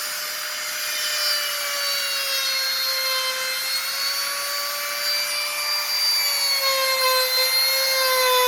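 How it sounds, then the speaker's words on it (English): A wood-cutting Dremel bit grinds into a plastic office chair arm, a loud, sustained high-pitched whine that wavers slightly in pitch as it bites, heard close and alone for the whole stretch. "I'm actually using a wood Dremel on this, but it will allow me to go to where I need to go"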